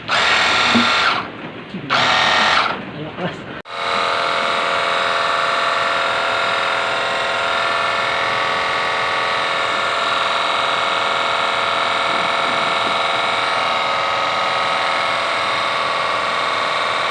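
A portable pressure washer hums and hisses continuously, loud and close, after a few short bursts at the start, spraying water in a steady roar with no pauses.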